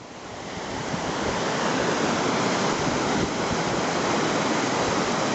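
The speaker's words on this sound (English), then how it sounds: "Well, the river's quite rapid today." A fast-running river on a Scottish trail between Callander and Comrie gives off a steady, loud, broad rushing roar that swells slightly at the start and then holds constant, with no voices.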